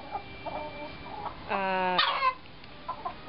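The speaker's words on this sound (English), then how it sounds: "we've got other chickens over here in the corner" Chickens clucking softly nearby, with one louder drawn-out squawk in the middle, then scattered low clucks.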